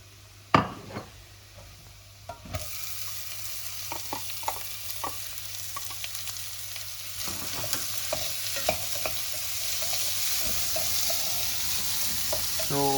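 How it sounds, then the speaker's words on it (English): Chopped onions frying in a pan over browned garlic, a continuous close sizzle that grows louder as a utensil stirs and scrapes through them, with no talking. "So we cook the onions till they are translucent"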